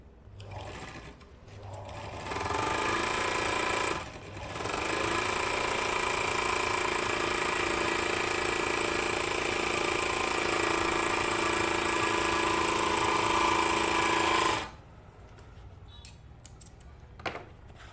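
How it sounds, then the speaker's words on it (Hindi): An overlock sewing machine stitching fabric runs in a loud, steady high-pitched whir for about ten seconds, pausing briefly near the start, then stopping abruptly, followed by faint handling clicks. "अब मैं आपको इस कपड़े पे सिले करके दिखाता हूँ कि मशीन सिले कैसे देता है।"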